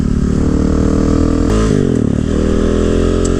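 A 2018 Husqvarna 701 Supermoto single-cylinder engine heard up close while riding canyon roads, a loud droning growl that shifts pitch as the revs change.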